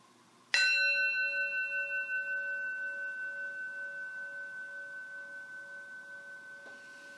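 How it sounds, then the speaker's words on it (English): A bell bowl is struck once and rings out alone in a quiet room, its clear sustained tone slowly fading and wavering over several seconds. "I'm going to sound the bell bowl for the story to begin"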